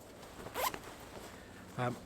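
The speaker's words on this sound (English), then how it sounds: "Zip." Zipper on a pocket of a Helikon-Tex Woodsman Anorak being pulled, two short close zips separated by a pause, with quiet outdoor background.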